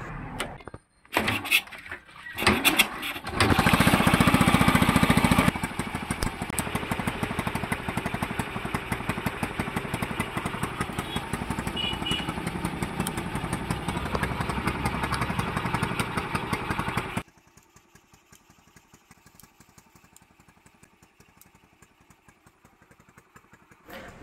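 A motorcycle engine starts and runs during a test run after headlamp assembly work, first revving loud and rough, then holding a steady mid-pitched running note for several seconds before dropping to a faint idle.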